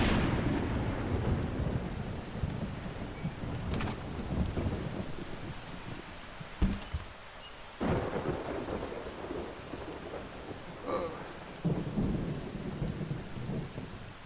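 Thunder from lightning strikes in a video game rolls through a constant hiss of rain and wind. Several sharp cracks, one especially close and loud midway, fade into deep rumbling.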